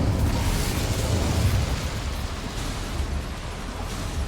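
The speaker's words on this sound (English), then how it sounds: "Incendio should be enough to light these flames." A fire spell, Incendio, lights flames in the Hogwarts Legacy video game, giving a steady, loud, broadband whoosh and roar that holds for several seconds and eases slightly toward the end.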